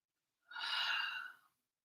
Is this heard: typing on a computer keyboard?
no